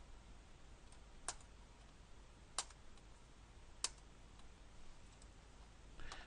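Three sharp, isolated computer mouse clicks ring out a second or so apart over a quiet room hiss, close and faint.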